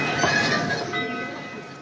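The Cannonball, an old steam train, wheezing and rumbling steadily in one continuous, fairly loud breathy rush with no voices.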